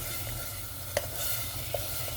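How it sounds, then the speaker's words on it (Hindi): Onion and tomato fry softly in oil in a pan for mixed daal, a faint steady sizzle broken by two light stirring clicks. "हम इसको इतना भूनेंगे कि ये प्याज जो और टमाटर है वो अच्छी तरह आपस में एक पेस्ट सी बन जाए"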